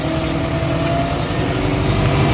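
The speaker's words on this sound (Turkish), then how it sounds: "şu anda traktörün içindeyiz." A New Holland 7556S tractor sowing oats, heard from inside the cab: a loud, constant engine drone with a low rumble and a steady mechanical hum, with no speech.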